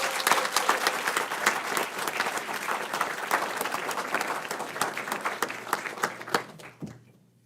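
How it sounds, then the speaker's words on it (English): A city council meeting audience gives a big round of applause for a junior cheer team receiving certificates of recognition, dense steady clapping that fades out near the end. "Big round of applause."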